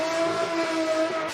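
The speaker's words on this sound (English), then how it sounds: "it's the Aston Martin with the V12, just as you guys heard. That thing is screaming and drifting" An Aston Martin V12 race car screams at high revs while drifting, a sustained tonal engine wail held loud and steady for a brief moment.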